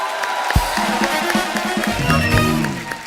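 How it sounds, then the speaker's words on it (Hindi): A studio audience at a TV comedy show claps and cheers for arriving guests, a broad crowd roar with a sharp thump near the start and tonal music or voices layered over it. "आप सबकी जोरदार तालियों के बीच"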